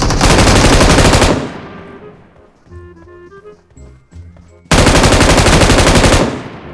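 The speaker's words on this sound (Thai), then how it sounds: "ได้ยินเสียงปืนด้วย" Two long bursts of rapid automatic gunfire in PUBG Mobile, loud and close, separated by a quieter stretch of electronic tones and clatter.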